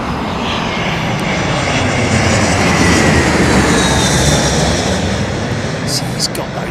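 Airliner passing overhead at London Heathrow with its engines at idle, a loud, steady broadband roar that fills the whole stretch and fades slightly at the end.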